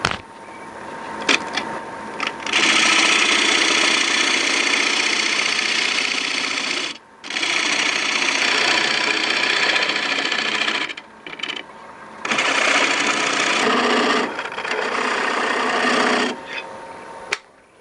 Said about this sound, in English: Got the lathe set at about 900 RPM